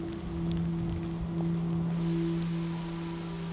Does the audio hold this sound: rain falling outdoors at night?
yes